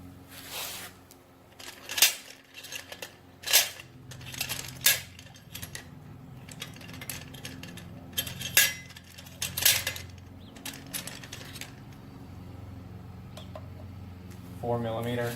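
Four thermostat housing bolts come off a Kawasaki Vulcan 900 during coolant work, giving scattered sharp metallic clinks and taps of tools and loose bolts, several distinct close strikes over a steady low hum.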